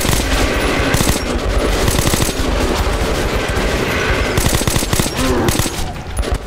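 Gunfire from a weapon in the video game Metro 2033 Redux, a loud, dense stream of rapid automatic shots with no break across the whole stretch and no voices over it.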